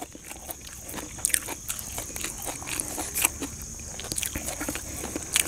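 Someone eats crispy pork with papaya salad and fresh vegetables outdoors in a rice field, producing repeated crunchy bites and chewing up close over a steady background hiss, with no talking.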